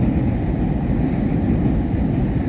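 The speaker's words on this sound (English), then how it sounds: "Trains are really noisy actually." Loud, steady low rumble of a train passing by a riverside in Tokyo, a continuous roar without breaks.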